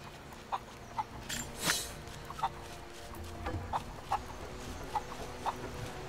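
Chickens clucking in a coop in the video game Rise of the Tomb Raider, a string of short, evenly spaced clucks over a low ambient bed, with one louder burst near the start.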